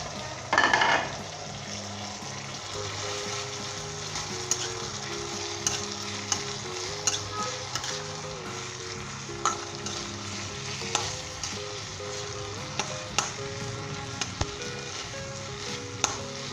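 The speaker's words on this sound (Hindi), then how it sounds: "अब हम इसके अंदर ये गाजर, शिमला मिर्च और प्याज शामिल करेंगे और 5 मिनट के लिए हम स्टर फ्राई करेंगे तेज़ आंच के ऊपर" Carrots, capsicum and onion are stir-fried on high heat for vegetable macaroni, a steady close sizzle broken by regular clinks and scrapes of a spatula against the pan, with no voices.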